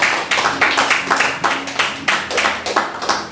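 A church congregation at a Sunday service claps in steady rhythmic unison to acclaim Jesus, sharp and close, repeating evenly for several seconds with no talk over it.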